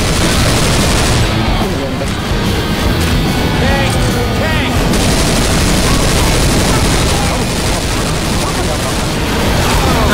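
Rapid gunfire bursts from Left 4 Dead 2 rattle almost nonstop and loudly through a chaotic fight, mixed with game noise and players talking over it.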